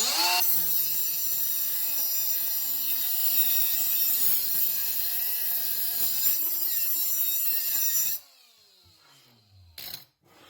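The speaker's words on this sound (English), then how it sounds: "does a pretty good job with the cutoff wheel" A Milwaukee 2-inch die grinder with a cutoff wheel cuts with a loud, high whine and gritty grinding that wavers in pitch under load, runs for about eight seconds, then stops abruptly and spins down.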